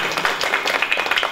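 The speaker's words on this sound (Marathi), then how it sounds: "दोघांसाठी एकदा जोरात टाळी." A kirtan audience breaks into a brief, dense burst of clapping, close and steady for just over a second.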